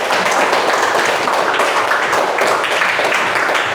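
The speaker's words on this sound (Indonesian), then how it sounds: "Oke, tepuk tangan dulu buat Akbar" A school class claps for a student, Akbar, in a loud, close burst of many hands that stays dense and even throughout, with no talk over it.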